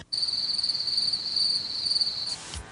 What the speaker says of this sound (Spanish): El grillo y la cigarra chirrían.